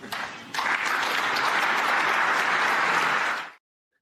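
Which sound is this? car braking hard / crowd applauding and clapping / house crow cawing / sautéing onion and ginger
crowd applauding and clapping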